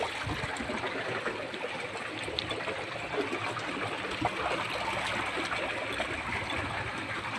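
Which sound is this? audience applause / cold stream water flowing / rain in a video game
cold stream water flowing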